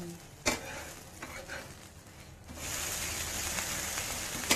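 Moringa dosa frying on a pan gives a steady hiss of sizzling that swells louder after a flip, with a sharp knock of the utensil near the start; close, with no talk.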